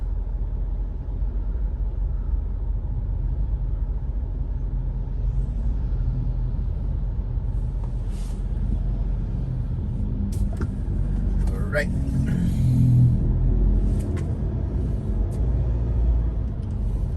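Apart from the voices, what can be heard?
road traffic in Cebu City in the early morning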